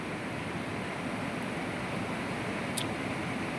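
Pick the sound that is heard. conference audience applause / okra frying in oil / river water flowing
river water flowing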